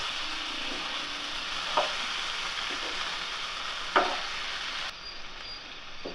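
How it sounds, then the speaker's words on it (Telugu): Chicken pieces fry in oil for dum biryani with a steady, close sizzle. A couple of sharp stirring scrapes cut through, and it turns a little quieter near the end. "ఈ విధంగా నూనెలో చికెన్ వేయించడం వల్ల చాలా సాఫ్ట్గా వస్తుంది"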